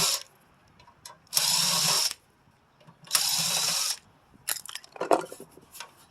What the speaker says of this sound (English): I think my battery's about low on my drill